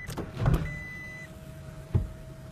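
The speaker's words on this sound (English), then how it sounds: "This one also has the moonroof here" Power moonroof on a 2016 Toyota Tacoma TRD Sport, a short electric motor whine with a couple of mechanical clunks as it moves and stops, heard up close inside the cab.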